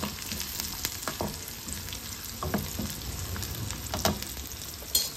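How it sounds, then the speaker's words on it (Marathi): Onion sizzles as it fries in a pan, a steady close crackle with occasional stirring knocks and scrapes, no voices. "हा कांदा आता शिजून द्यायचा आहे"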